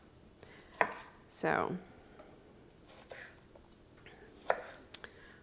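A knife quartering Brussels sprouts on a cutting board: a few sharp, separate chops and a brief rustle of the sprouts, fairly faint, with someone speaking over it.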